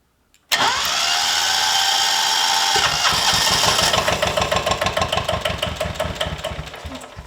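A lawn mower pulled out of long grass starts abruptly after a moment of silence and runs loud, then settles into a rough, pulsing chug that gradually fades.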